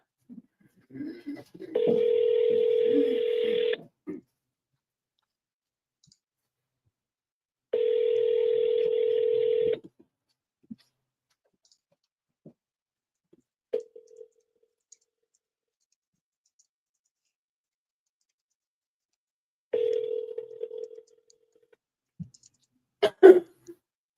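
Two steady telephone tones, each about two seconds long and well apart, followed later by a short tone with clicks, all clear and close with no voices.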